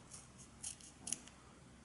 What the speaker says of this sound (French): j'ai pris un ciseau pour les ongles. Et je vais couper la moitié, plus le milieu, en pliant bien le scotch pour éviter de couper l'extension